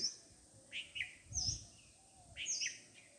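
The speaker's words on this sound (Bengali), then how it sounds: "এখনো কিছু পাখি ডাকছে" Birds calling at dawn in a village fruit garden beside a pond, with a few faint, bright chirps and whistles repeating at intervals over quiet background.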